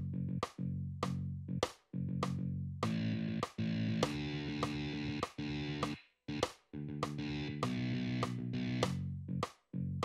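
Metal guitar part played back from Guitar Pro tablature, with chugging distorted rhythmic chords separated by sharp stops and short pauses; moderately loud, mechanical in its timing, no talk.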